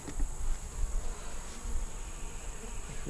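A swarm of bees that settled into a hive under a screen top board gives off a steady, soft, close-up buzz that hums continuously without pause.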